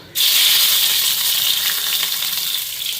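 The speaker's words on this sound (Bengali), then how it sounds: "এখানে সর্ষা ফোড়ন দিলাম চাটনি বানাবো টমেটো" Mustard seeds sizzle in hot oil as the tempering for a tomato chutney. The crackling starts abruptly and stays loud and steady until the end, with no talk.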